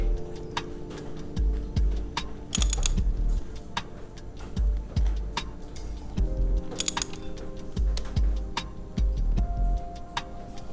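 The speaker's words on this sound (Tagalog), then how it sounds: "I hand tighten as much as I can, then only half a turn here on the wrench." A wrench works on a bolt during an oil change on a KTM Duke 390 motorcycle, giving close, sparse metallic ticks and clicks against a low background hum.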